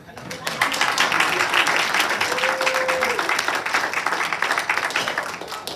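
Steady applause from an audience at a city council candidate forum in Niagara Falls, a dense continuous patter of many hands, fairly distant, with a brief tone sounding partway through.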